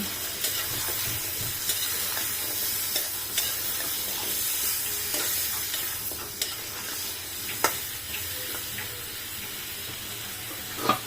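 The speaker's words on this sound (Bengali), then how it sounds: "এখন আমি ভালো করে কষাই নেব।" Vegetable stalks being stir-fried in a pan, a steady close sizzle broken by repeated scraping stirs and clinks of the utensil against the pan, with no talking.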